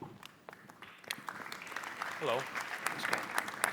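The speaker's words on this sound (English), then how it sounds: "Please give a round of applause to Patricia and Bendik of Piql." Conference audience at a panel clapping in a hall, a dense spread of applause building over a few seconds, with a man's brief greeting heard over it near the microphone.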